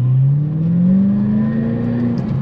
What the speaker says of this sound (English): I just love the sound of that V8 in this 5-speed manual.